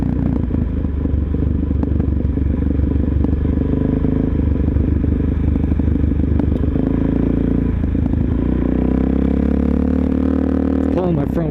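A motorcycle rides over very loose gravel, its engine droning steadily close by with continuous crunching and clattering of stones under the tires, and the pitch rising and falling slightly near the end.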